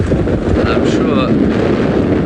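An outdoor breeze buffets the microphone during a sunrise safari drive, a loud low rumbling wind noise that runs continuously throughout, with faint tonal sounds briefly audible above it.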